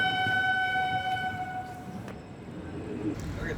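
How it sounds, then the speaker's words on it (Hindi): A superfast express passenger train on the Bengaluru to Howrah route runs past at night, its long horn blast sounding first, then a steady rumble of wheels and cars rolling by nearby. "और सामने जो आप ट्रेन देख रहे हैं ये बेंगलुरु से हावड़ा जाने वाली सुपरफास्ट एक्सप्रेस है।"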